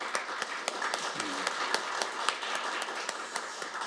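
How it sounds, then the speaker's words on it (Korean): An audience claps at a forum on beekeeping and the lack of honey plants, with steady, moderately close applause and distinct sharp claps throughout, while a low voice murmurs faintly beneath. "또 박수 한번 좀 보내주시기 바랍니다"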